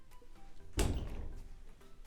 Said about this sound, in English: here I can open my closet